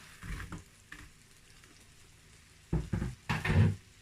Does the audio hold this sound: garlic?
yes